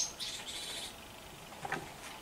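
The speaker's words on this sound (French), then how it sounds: "Il y a plein d'oiseaux par là." Several small birds chirp around an old manor house. Faint, high tweets come in a quick cluster at the start and once more near the end, over a quiet background with no talk.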